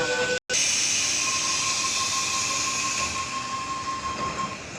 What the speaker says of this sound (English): Cronulla service now departing platform number 4